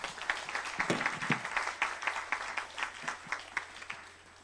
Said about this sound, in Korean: 그래서 큰 박수로 우리 태형 전도사님 모시겠습니다